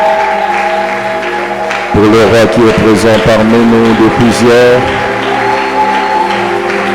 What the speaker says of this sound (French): Est-ce qu'on peut diriger ces acclamations vers Jésus en le faisant correctement?